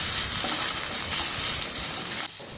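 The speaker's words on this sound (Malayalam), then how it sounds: "ഇഞ്ചി വെളുത്തുള്ളി പേസ്റ്റിൻ്റെ പച്ചമണമൊന്ന് മാറി വരുന്നത് വരെ ഇളക്കി കൊടുക്കാം" Ginger garlic paste frying in hot oil while being stirred, giving a steady close sizzle with a softer scraping patch near the end.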